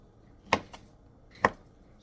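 A knife cuts through sausages on a board: two sharp, quiet chops about a second apart, with a softer tap between them.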